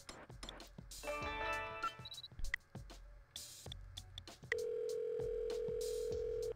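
A mobile phone in Saints Row 2 chimes through quick electronic menu beeps and dialing tones, then settles into a steady, sustained ringback tone, with light clicks and no talking.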